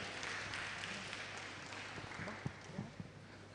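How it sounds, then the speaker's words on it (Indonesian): An audience at an education fair and workshop gives a speaker a welcoming round of applause, a soft, even patter of clapping with a few sharper claps near the end. "Tepuk tangan dulu dong."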